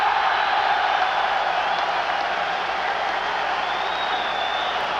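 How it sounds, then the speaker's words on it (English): A boxing-arena crowd roars for Scottish boxer Jim Watt, a loud, even wash of cheering and applause that holds steady throughout. "Now you'll hear a cheer for the Scottish hero."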